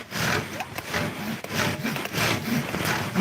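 A hand saw rasps rhythmically through tree branches in steady back-and-forth strokes, close and fairly loud, with no talking.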